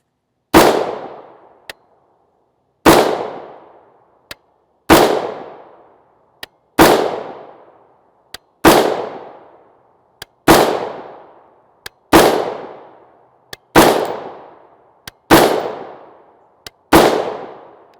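Rifle shots from 5.56x45mm 55gr FMJ Armscor ammunition, about ten loud, sharp reports fired at an even, unhurried pace, each followed by a short ringing decay, with no talking.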